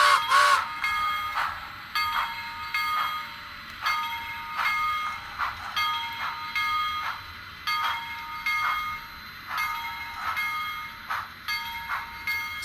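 A Bachmann 4-4-0 model steam locomotive backs up on a layout track, giving a steady run of rhythmic clicking and light metallic ticks with a faint mechanical whir, close by and with no talking.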